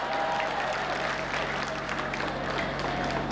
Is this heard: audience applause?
yes